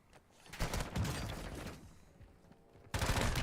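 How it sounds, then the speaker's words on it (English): Airstrike explosions and rapid gunfire erupt in a video game, dense crackling bursts that swell, fade, then return abruptly loud at the end. "This is where I just threw the game away with that freaking airstrike."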